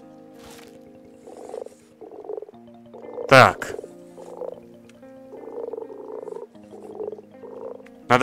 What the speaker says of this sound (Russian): О нет, это ж лягушка.